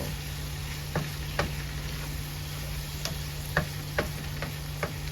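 Spinach cooking down in a pan, a steady low frying hiss with a constant hum, broken by a handful of faint clicks from a spoon or the pan, and no talking.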